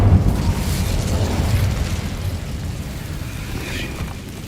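An Incendio fire spell bursts in the Hogwarts Legacy video game, a loud explosive whoosh that rolls on as a roaring, crackling rumble and slowly fades over several seconds, with no voices.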